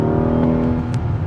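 A 600 HP Rolls Royce Wraith accelerates hard, its engine a loud, steady droning roar heard from inside the car, with a brief whoosh near the end.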